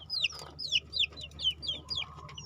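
Young chicks in a breeding pen peeping and clucking, a busy chorus of high, chirpy calls in quick repeated bursts, close and fairly quiet over a low background hum.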